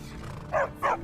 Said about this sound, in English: Need a trained war dog? Fiercest companion money can buy.